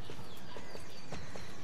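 An Arabian horse's hooves in the video game Star Stable: steady, evenly paced clip-clop footfalls at a walking rhythm, close and clear against faint ambient background.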